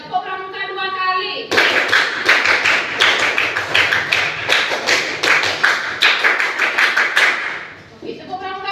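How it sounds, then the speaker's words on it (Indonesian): A classroom of children performs the Indonesian scout clap (tepuk pramuka) twice in a row during a lesson, loud rhythmic group clapping in quick patterned bursts, with a teacher's voice briefly before and after. "Oke, tepuk pramuka 2 kali."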